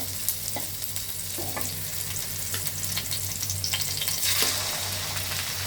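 Prawns frying with onion and garlic in a pan, a strong steady sizzle with spatula stirring and scraping strokes throughout, close and loud, no voices.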